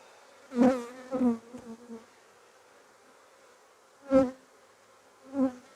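Honeybees buzz around an open hive during a pre-winter apiary inspection. Their droning swells in short bursts as individual bees fly close past, then fades, with quiet gaps between passes.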